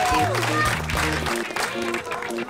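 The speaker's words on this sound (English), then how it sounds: "give them a round of applause as well." At the finish of a Kilmacolm 10km and half marathon, spectators applaud the race winners, a moderate patter of clapping under an announcer's amplified voice and background music.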